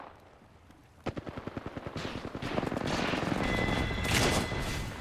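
Enemy gunfire in a shooter video game, a fast run of sharp repeated shots breaking out after a quiet start and swelling into a dense, loud volley with rising din toward the end.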